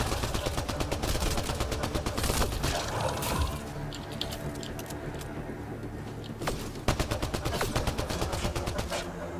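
Shotgun blasts in the video game Mass Effect: Andromeda, a rapid run of loud, sharp shots with mechanical clatter, easing off midway before a second burst of repeated firing near the end.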